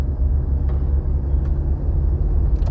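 A car drives through downtown Los Angeles streets with bus-only lanes, a steady low engine and road rumble holding close and even throughout, with faint higher ticks above it.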